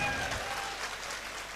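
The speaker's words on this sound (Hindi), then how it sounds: "ताली बजाओ" Audience clapping at a Hindi comedy poetry gathering (hasya kavi sammelan), a short steady burst of applause filling the hall at moderate level with no speech over it.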